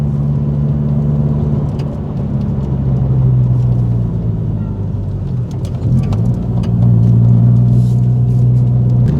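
A Subaru WRX STI engine hums steadily in a low droning tone, holding revs near a limiter with slight dips and surges, loud and close from inside the car.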